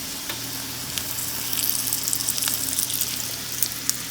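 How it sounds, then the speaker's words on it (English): Snapper fish frying in olive oil in a pan, a steady close sizzle with crackling pops and a low hum underneath. "We're just going to fry this fish up real quick."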